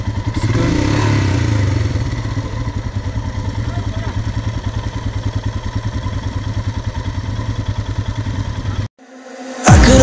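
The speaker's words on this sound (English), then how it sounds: "I'm now on the Royal Enfield Himalayan, the new model, BS model." A new Royal Enfield Himalayan BS model motorcycle is ridden with its engine thumping in a fast, even pulse, loud and close, until the sound abruptly drops out and a burst of wind follows.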